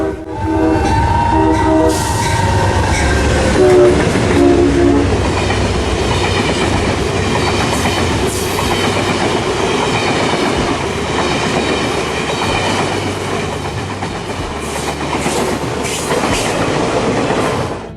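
An Amtrak GE Genesis P42DC diesel locomotive rumbles past loudly for the whole stretch, with a horn blast near the start and steady rolling noise throughout.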